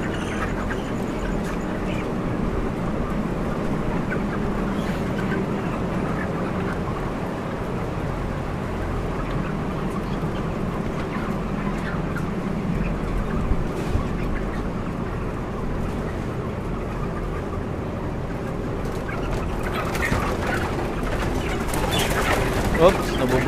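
Broiler chickens on a multi-tier farm make a dense, constant clamor of clucking and squawking that goes on throughout the clip. The flock grows more agitated toward the end, and voices are faintly audible in the din.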